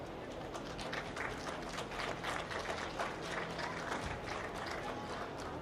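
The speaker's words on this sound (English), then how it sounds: "Let's give these youngsters a round of applause." An audience at a dairy show gives a steady round of applause that sounds moderately distant, the clapping blending with faint voices in a large open arena.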